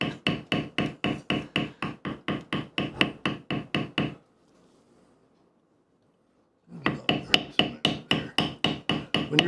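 Rapid, even mallet strikes on a leather beveler while tooling leather, dozens of sharp close taps in a steady rhythm, a pause of about three seconds, then the tapping resumes at the same brisk pace.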